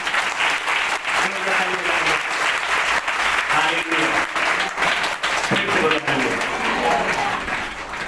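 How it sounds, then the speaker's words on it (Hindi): A Hindi-speaking church congregation claps loudly in praise of Jesus Christ, sustained and fairly close, with a few voices calling out over the clapping. "प्रभु यीशु मसीह के लिए जोरदार ताली बजाएंगे।"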